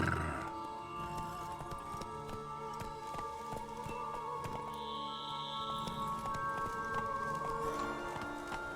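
A horse in The Witcher 3 game moving at a walk, with steady clip-clopping hooves and a brief whinny over game ambience, fairly close and clear.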